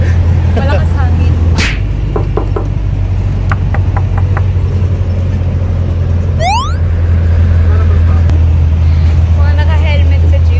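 Ride inside a jeepney on the road in Dasmariñas, with a loud constant low engine rumble and road noise throughout, beeps and a rising whine passing by, and voices talking over the din.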